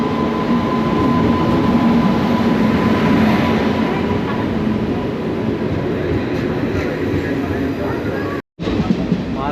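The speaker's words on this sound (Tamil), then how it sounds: "இந்த ட்ரெயினில் ஏறிட்டேன்." Steady rumble and hiss of a moving passenger train in India, heard from inside a carriage, continuous and fairly loud with a brief dropout near the end.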